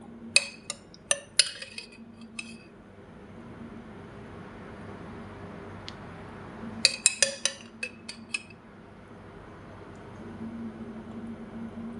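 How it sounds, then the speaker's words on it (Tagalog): Mayonnaise is spooned onto an egg filling for an egg mayonnaise wrap, three spoonfuls. A metal spoon clinks and taps sharply and up close in two quick clusters, with a quiet pause between them and no talking. "Lalagyan ko na rin po siya ng mayonnaise. Tatlong kutsara po."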